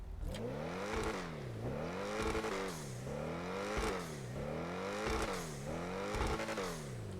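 A Lamborghini engine revs up and down in repeated waves, loud and close, with its deep harmonic growl rising and falling over about seven seconds with no talk.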